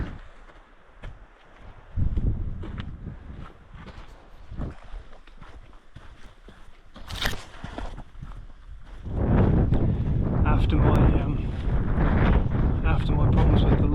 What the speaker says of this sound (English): Rain in the hills, maybe a bit windier than I expected